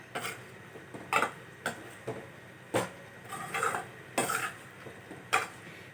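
Paneer masala is stirred in a pan, a spoon scraping and clinking against the metal in irregular sharp taps and sweeps about once a second, close and fairly clear with no talking.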